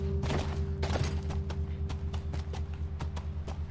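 Horse hooves clip-clop in a steady, even rhythm in The Last of Us video game, close and clear over a constant low game hum.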